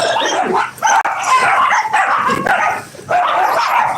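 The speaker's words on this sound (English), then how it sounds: "He doesn't know who to bark at first." Oliver the dog barks and yips in quick, excited bursts out on a walk, close and loud, with barely a pause across the few seconds and some whimpering between barks.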